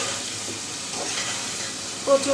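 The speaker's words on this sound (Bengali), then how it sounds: "মুখিটা একটু কষিয়ে নিচ্ছি" Raw taro pieces fry with chillies in a pan ahead of a tengra fish curry, giving a short burst of close sizzling and stirring that ends in a louder scrape.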